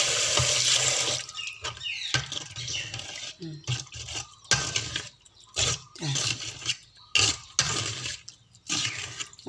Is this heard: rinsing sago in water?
yes